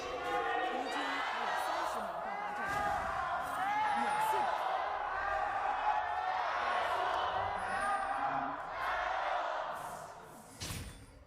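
An arena crowd at an LPL esports upper bracket finals between JDG and AL cheers and whoops in a sustained, fairly distant roar, with a few sharp bursts near the end.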